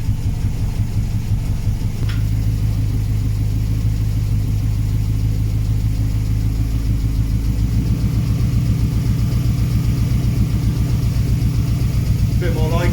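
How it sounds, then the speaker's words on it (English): Nissan Micra K10 with a high-compression CG13 engine and individual throttle bodies idling as it warms up, a loud, close, steady lumpy throb with a slight rise near the end. "the engine probably wants to warm up a little bit, so what we'll do is I'll open up the bonnet and I'll adjust the idle a little bit"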